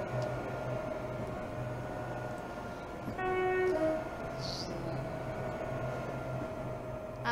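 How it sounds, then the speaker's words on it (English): A Class 360 electric multiple unit accelerating away from a station on the Great Eastern Main Line in Train Simulator 2015, a steady low rail rumble and motor drone with a brief tonal horn-like sound midway, no speech. "That is quick departure from the station. And a quick acceleration of this train."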